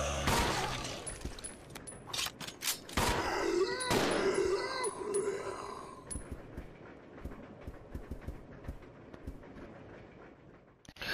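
Gunfire in Resident Evil 0 HD lands as a headshot, a burst of loud sharp cracks and impacts in the first six seconds, then a quieter scatter of clicks and game ambience trailing off.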